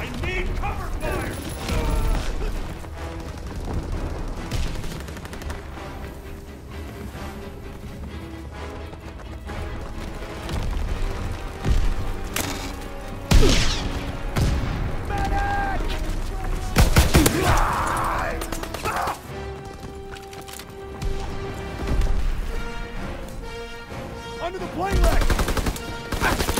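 Gunfire rattles through a video game battle at Pointe du Hoc, with bursts of rapid shots, sharp single cracks and crashes against a noisy battlefield, and voices call out at times.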